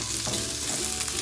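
Spring onion and green chillies sauté in a hot pan for chilli mushroom, giving a steady close sizzle with light stirring scrapes throughout.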